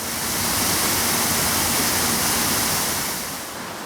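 A waterfall at Llanberis in Snowdonia roars as a steady, broad rush of falling water, loud and close throughout, then eases slightly at the end, with no voices.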